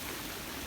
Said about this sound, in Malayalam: അതാണ് വെള്ളച്ചാട്ടം.